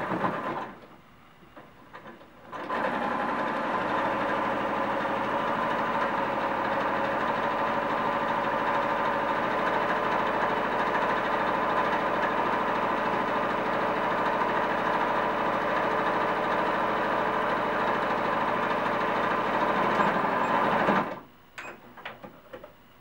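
A sewing machine runs in one continuous stretch while stitching the waistband of a cloth doll, a steady close mechanical whir that starts abruptly and stops after about eighteen seconds.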